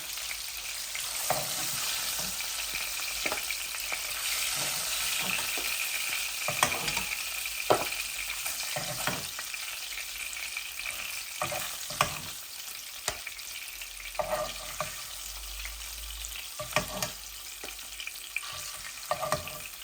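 Pangasius fish frying in oil in a kadai, a continuous bright sizzle punctuated by frequent scraping and clattering of a spatula as the pieces are turned, near and without talk.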